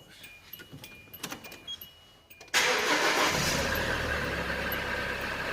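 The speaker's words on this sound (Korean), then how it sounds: "한번 시동을 걸어서 한번 해보겠습니다" A manual-transmission car engine is cranked with the clutch pedal held down. After a few seconds of near quiet with faint clicks, it catches abruptly and settles into a loud, steady running roar close by.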